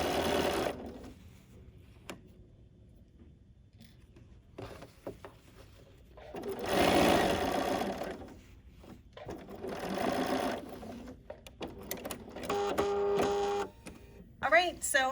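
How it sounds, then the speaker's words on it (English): A sewing machine stitches along a quilt binding in several bursts of steady, rapid needle clatter, separated by quieter pauses. "And now we're going to stitch right along that blue line."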